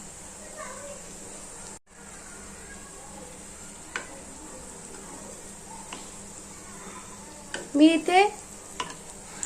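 Food shallow-fries in a pan with little oil, making a faint, steady sizzle close by, with a few light clinks and a voice speaking over it.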